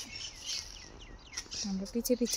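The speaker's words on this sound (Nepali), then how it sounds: "सुन्नुभयो चराहरू कराएको?" Outdoor birds calling, several thin high chirps and tweets scattered across the moment, partly under a person talking nearby.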